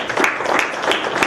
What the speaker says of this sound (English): That's another round of applause.